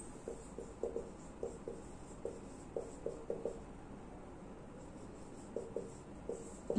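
Chalk or marker writing on a board, producing a run of short, faint scratching strokes in irregular bursts with pauses between them, and no talking.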